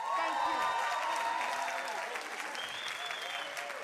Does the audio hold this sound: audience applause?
yes